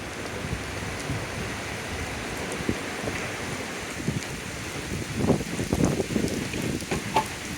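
Heavy rain pours down outdoors at the Fort Defiance Civil War museum in Clarksville, Tennessee, a steady broadband hiss with a few louder splashes and gusts toward the end, with no voices.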